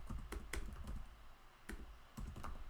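Typing on a computer keyboard while writing C# code in Unity, quiet clicky keystrokes in irregular bursts with a short pause midway, close and faint, no talking.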